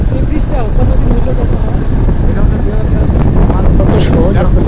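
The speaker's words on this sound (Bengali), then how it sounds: "আমাদের কথাগুলো বেশি শোনা যাচ্ছে না মোটরসাইকেল আওয়াজে।" A motorcycle ride near the Kaptai Lake bridge: a loud, steady engine drone and rushing wind roar fill the whole stretch, with people talking underneath.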